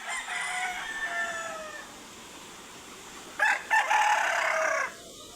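Chickens and a rooster in a small backyard coop, with a rooster crowing clearly in the opening seconds and a second loud, drawn-out crow near the end, set against a faint outdoor background.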